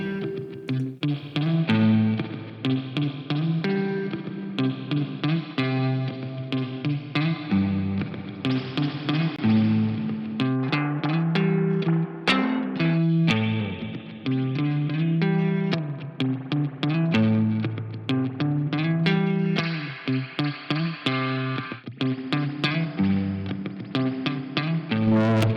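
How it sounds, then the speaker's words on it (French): An electric guitar through a Pulsar Primavera spring reverb plays a continuous melodic passage drenched in splashy spring reverb, loud and sustained throughout with no voices. "de la reverb, là, des ressorts,"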